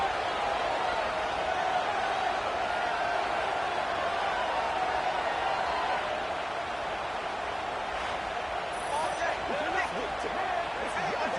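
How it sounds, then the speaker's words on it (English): Dense, roaring stadium crowd at a college football game, Middle Tennessee against Clemson, a steady full-throated wall of noise that holds for the whole stretch with scattered whoops and shouts rising near the end. "This crowd, full throat, splitting the eardrums"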